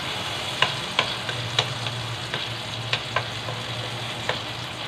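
Eggplant for tortang talong sizzles steadily in an oiled pan, with a constant crackling hiss broken by scattered sharp pops and a few soft scraping stirs, close by with no voices.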